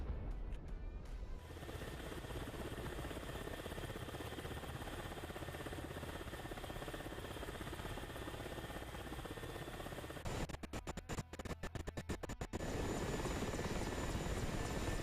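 A KA-50 Black Shark coaxial helicopter in a flight video game gives off a steady, dense rotor and engine roar that fills the whole stretch, with a brief run of sharp rapid ticks near the end.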